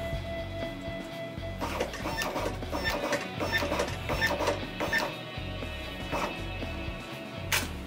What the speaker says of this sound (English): I'm going to go ahead and send that to the printer